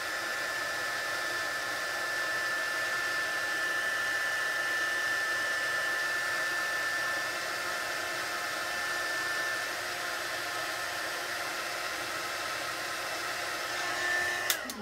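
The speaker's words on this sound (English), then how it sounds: "I'm just holding the heat gun still, and as soon as I see that powder melt and change, I'm just moving the heat gun." A heat gun blows a steady, loud, airy roar while melting embossing powder on a card, holding an even whine throughout before a small click at the end.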